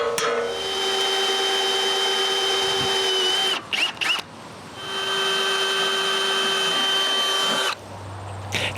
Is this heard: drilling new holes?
yes